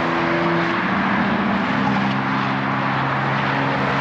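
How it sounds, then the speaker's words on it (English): A loud car passes by on a street in Boulder, a steady droning engine roar that holds close for a few seconds and then eases slightly. "I hope that clip picked up some of that loud car noise"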